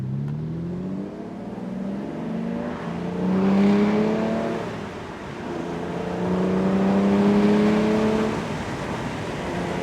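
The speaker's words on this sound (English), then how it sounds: "we will demonstrate just how the Aston cruises here as the road opens up" A 2006 Aston Martin DB9 Volante V12 cruises on an open road, its engine a smooth steady drone that swells and eases as revs climb and gears shift, heard from inside the car without speech.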